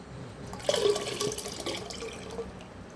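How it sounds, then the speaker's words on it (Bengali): Water is poured into a clay pot for a fermented-rice humic acid mix, making a short gurgling splash that fades quickly into a soft trickle. "এই হাঁড়ির মধ্যে ঢালছি।"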